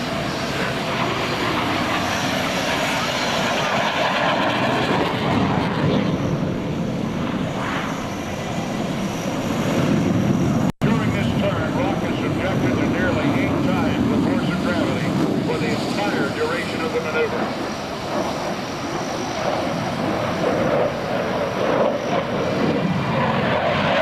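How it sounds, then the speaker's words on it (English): An F/A-18C Hornet fighter jet flies low during a demonstration at the 2002 NAS Oceana airshow, producing a continuous loud, broad engine roar that stays strong the whole time while a commentator talks over the public address. "will now enter from the left at a low altitude to demonstrate the Hornet's incredible turn radius"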